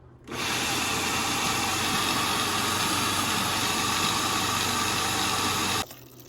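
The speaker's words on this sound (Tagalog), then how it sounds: "i-blender ko lang kasi wala naman akong ibang gilingan ko, hindi blender" Electric blender whirs at full speed blending coconut milk for rice cakes, with a loud, steady motor whine, then cuts off abruptly near the end.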